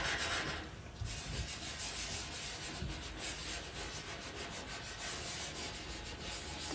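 Soft, steady rubbing of a pencil drawing on paper to blend the shading, a close, continuous dry scratchy friction that runs the whole time with no talking.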